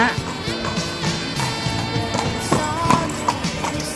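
Horse-drawn carriage at Petra in Jordan, hooves clip-clopping in a quick, irregular rhythm close by over a busy outdoor background with faint voices.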